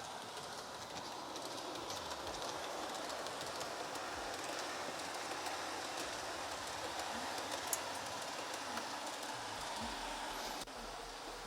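A model train locomotive, an 800 class, runs steadily across the points of a garage-built layout with fresh ballast, giving a continuous rolling rumble with faint clicking, moderately close and without talk.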